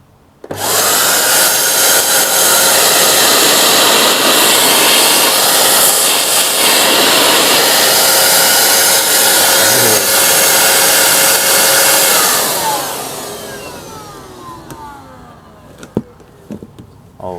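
A Samsung 1800W vacuum cleaner with its suction vent opened runs as a loud, steady roar with a whine for about twelve seconds, then winds down and fades, leaving faint handling clicks. No one speaks.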